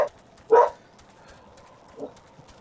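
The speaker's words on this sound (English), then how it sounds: "I hear wolves in the distance." Distant wolves in the online role-playing game Final Fantasy XIV, giving two short barks, one clear and one fainter, against a quiet ambient background.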